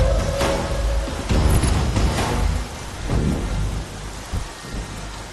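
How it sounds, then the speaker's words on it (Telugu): Steady rain pours down with rolling thunder booming in the foreground, loud and continuous across the whole stretch with no voices. "వెదర్ రిపోర్ట్ లో వర్షం రాదన్నారు"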